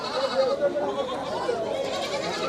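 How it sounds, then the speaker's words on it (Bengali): Goats bleat nearby at a busy livestock market ahead of Eid al-Adha, wavering calls over a steady background of crowd murmur and voices. "আমরা এক চাচা পাশে 2টা ছাগল ধরে আছে দেখছি।"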